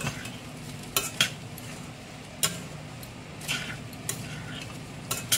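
Spice masala fries in a pan for a Bengali pointed gourd pulao, with a soft continuous sizzle broken by several crisp scrapes and taps of a spoon stirring against the pan, close up with no voice.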